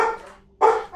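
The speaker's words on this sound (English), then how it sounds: "Dog's barking." Dog barking in the open-world fantasy RPG Tainted Grail, one bark burst fading out, then a short pause and a second, louder bark with a trailing yelp near the end, fairly close with no talk over it.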